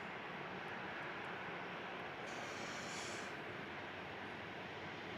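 QantasLink Dash 8-300 turboprop arriving at Melbourne Airport, a steady broad engine roar heard from a distance, with a brief higher whine rising partway through.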